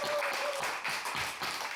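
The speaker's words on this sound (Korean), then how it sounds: "박수 한번 합시다." A church congregation applauds during a Sunday worship service, giving a brief round of clapping that stays steady and moderately distant throughout.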